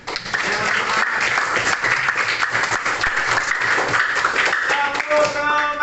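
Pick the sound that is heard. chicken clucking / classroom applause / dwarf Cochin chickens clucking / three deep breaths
classroom applause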